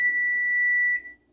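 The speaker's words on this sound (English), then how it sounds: "I forgot to turn off the timer" An electronic kitchen timer alarm sounds one sustained high beep for about a second before cutting off, with a faint room background and nobody speaking.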